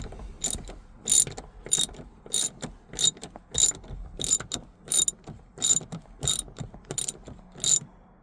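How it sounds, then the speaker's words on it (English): A hand ratchet tightens a Torx bolt on a passenger seat armrest in a Dodge Grand Caravan, a close series of about a dozen sharp rhythmic clicking strokes with faint rattles between them. "And now I'm gonna put this Torx bolt back inside. And now I'm gonna tighten that."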